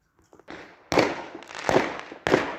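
A neighbor's fireworks go off outdoors: a few quiet pops, then three sharp, loud bangs, each trailing into a crackling, fading burst.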